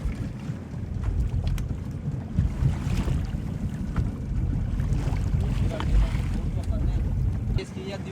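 Racing boats move across the water at the Wennappuwa Ulhitiyawa boat race in Sri Lanka, heard as a steady, loud wash of water and wind rumble throughout, with people talking over it.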